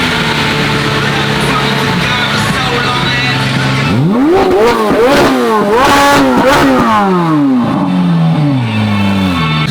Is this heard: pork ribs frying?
no